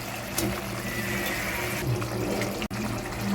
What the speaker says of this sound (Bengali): গ্যাসের ফ্লেম হাইতে দিয়ে ঝোলটা আমি দু মিনিট মতো ফুটিয়ে নেব